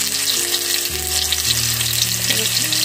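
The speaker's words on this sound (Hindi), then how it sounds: "थोड़ा टमाटर को पकने देते हैं।" Chopped tomatoes and onion with a little salt sizzle loudly in a frying pan for a Pahadi vegetable dish. The frying hiss is steady and close, with soft tonal music running underneath.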